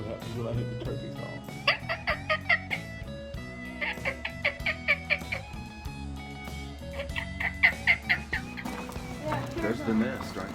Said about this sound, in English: That's what happens when I hit the turkey call.